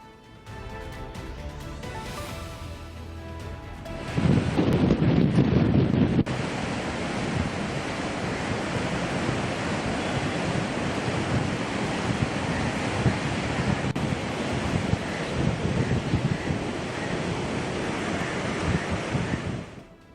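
The flooded Godavari River rushes with a loud, continuous roar after rains swell the streams, jumping suddenly louder a few seconds in. Wind buffets the microphone throughout.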